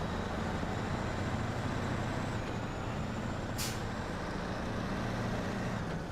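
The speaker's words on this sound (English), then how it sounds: "The truck engine is loud." A heavy truck engine in the off-road game Snowrunner drones steadily and loudly, a constant low rumble that continues throughout, with a brief hiss partway through.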